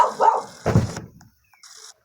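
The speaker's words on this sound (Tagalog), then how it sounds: "Pati aso ang ingay, guys." A dog lets out a couple of sharp, close barks, followed by a brief quiet pause and a fainter trailing sound.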